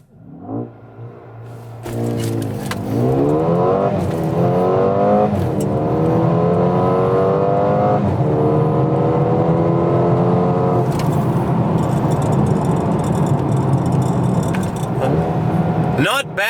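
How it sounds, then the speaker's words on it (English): Mercedes-AMG GLA35, a 2022 model, accelerating hard from a standstill: a steady engine drone rises as the revs climb through stepped gear changes, loud and close, sustained for over ten seconds. "here's a demonstration of the performance of the GLA35 from a standstill"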